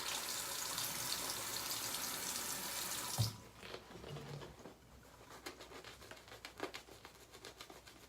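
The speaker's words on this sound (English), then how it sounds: "It's going to take more than a few drops to get some water into the brush." Tap water runs steadily into a shaving brush, a broad wash of loud splashing for about three seconds. It then stops and gives way to quieter dripping and scattered taps.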